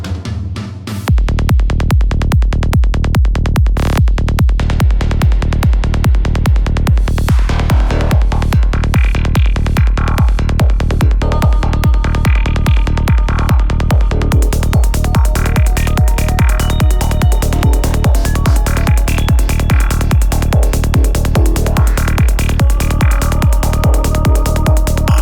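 A section after the drop of a psytrance track produced in Ableton, driven by a loud, relentless four-on-the-floor kick with rolling bass, layered with shifting synth leads and effects throughout, no voices.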